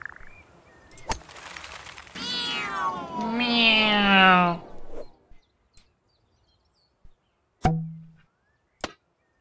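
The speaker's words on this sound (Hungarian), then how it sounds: "Azt hittem a macska. De azt mondja, miau." A cartoon cat meows in a cats-and-golf video game: one loud, drawn-out meow, then a few sharp clicks and taps after a stretch of near silence.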